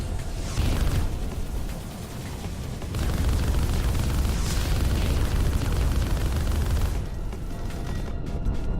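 Missile explosions in the video game Arc Savior: a dense, loud stream of booming blasts and bursts rolls on continuously, with brief dips in intensity before the barrage swells again.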